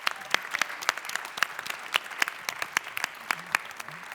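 Scattered applause from the audience at a leadership award ceremony and gala for a young leaders diploma program, with individual sharp claps standing out over a light, steady patter for several seconds.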